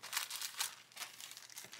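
A plastic parts bag from a 1/24 Belkits Hyundai i20 WRC 2020 model kit crinkles and rustles in continuous close-up bursts as it is handled and torn open.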